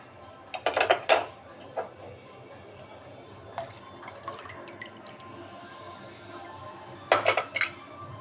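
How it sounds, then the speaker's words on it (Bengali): A spoon clinks against a bowl while dal is mixed, with a quick cluster of clinks near the start, a few soft taps in the middle and another burst near the end, over quiet room noise. "ডাল ভালোভাবে মিশিয়ে নিব"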